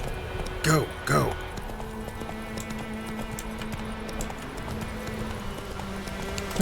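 Rapid hoofbeats of horses galloping in The Witcher 3: Wild Hunt under voices and a musical backdrop, with a couple of louder thuds early on.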